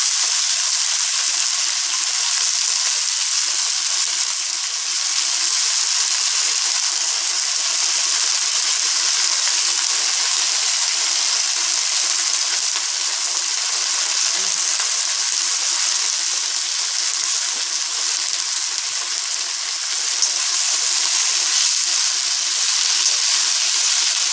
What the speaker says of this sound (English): so we have added the spinach to it